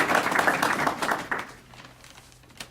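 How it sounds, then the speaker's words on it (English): Audience clapping to welcome the founder and CEO of Saxbys at a meet-and-greet, a steady burst of applause that tapers off after about one and a half seconds, leaving scattered claps. "join me in a round of applause in welcoming the CEO and founder of Saxbys"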